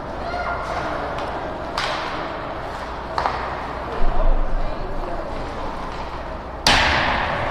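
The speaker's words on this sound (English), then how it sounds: "Wayzata bangs one high up off the glass." Pucks bang against the rink glass during a PeeWee youth hockey game, several sharp cracks spread through the clip, the last one loudest, over arena ambience and commentary.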